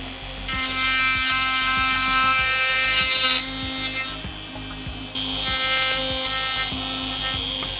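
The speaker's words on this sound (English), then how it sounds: "I used a router to clean up and square the inside edges." A handheld router whines steadily while cleaning and squaring the inside edges of mortises cut in wooden coffee table legs, with a brief drop in pitch partway through before it spins back up, close and loud.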